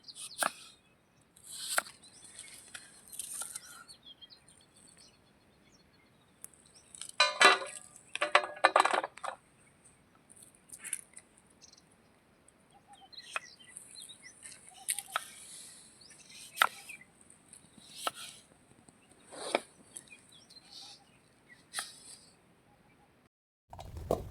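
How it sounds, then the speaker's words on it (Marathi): A knife finely chopping onion on a board, with bursts of quick, crisp taps in short runs separated by pauses, close and clear. "असा एकदम बारीक आणि उभा चिरायचा हे कांदा"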